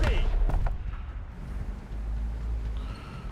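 A heavy tank's cannon fires in the War Thunder video game: one sharp, close blast near the start, then a deep, steady engine rumble that carries on for the rest of the moment.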